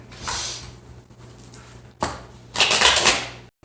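Two bursts of rapid riffling, a brief one early and a longer, louder one near the end, like a deck of cards being shuffled close by.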